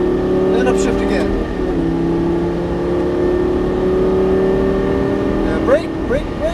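A Lamborghini Gallardo LP550 on a racing circuit, its engine droning steadily at high revs, with the pitch dropping at each upshift. The engine noise is loud and continuous, and someone talks over it.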